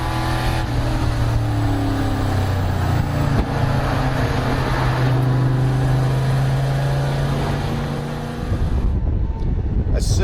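V8 NASCAR race car engine on track during a Euro series qualifying session in Germany, a loud sustained roar with shifting pitch as it pulls through gears, heard with commentary voices over it.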